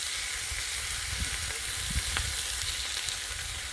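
Seared steaks sizzle on a flat-top griddle alongside eggs, a steady, close frying hiss with faint crackles and a soft low rumble throughout, no voices.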